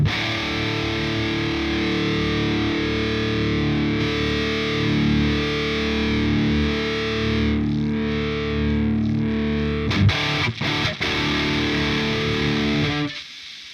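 Electric guitar played through old-school death metal amp simulator plugins, a thick, heavily distorted, hissy sustained roar that holds loud for about thirteen seconds, breaks into a few choppy hits and then cuts off.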